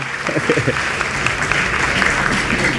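Audience applause for the panel speakers at an Indonesian education talk, a steady dense clapping wash filling the whole moment at moderate loudness.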